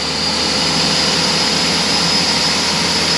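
A BMW 640d F13 diesel engine roars at full throttle on a dyno, a loud, steady, dense drone held throughout with no talking.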